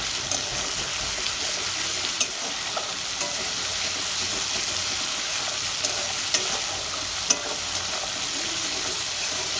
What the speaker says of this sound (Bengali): দিয়ে দেবো পরিমাণ মতো হলুদ গুঁড়ো আর পরিমাণ মতো টপা মশলাটা খুব ভালো করে কষিয়ে নেবো